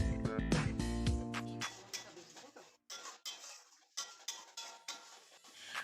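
Spoon stirring tomato paste and water masala in a pan, a string of close metallic clinks and scrapes with a short ringing tone at the start, then irregular knocks and soft wet stirring.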